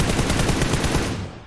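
A fast, loud burst of machine-gun fire in a shooter game rattles close and continuous, then tails off at the end.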